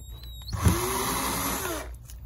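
A power drill whirs steadily for about a second and a half while drilling out a stripped screw in a laptop base, spinning up and down sharply at each end, close and fairly loud.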